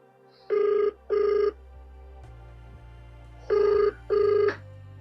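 A telephone rings during an outgoing call home, two pairs of bright electronic double rings separated by a pause, loud and clear over a low background hum.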